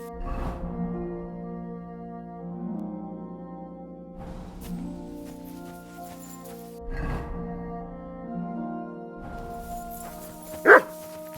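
A dog barks in bursts inside the video game Kingdom Come: Deliverance 2, about four separate volleys spaced a few seconds apart over a quiet ambient backdrop, moderately loud and with no speech.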